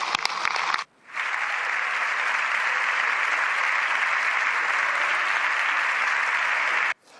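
Applause fills the Spanish parliament chamber, a sustained, even burst of many hands clapping that starts after a short cut and continues loudly almost to the end.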